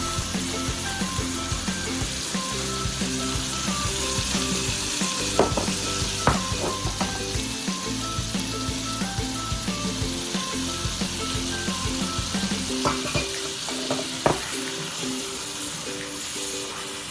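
Beef sizzling steadily in a hot pan for a Mexican beef and bean stew, with intermittent scraping and clinks of a utensil stirring the meat, close and continuous.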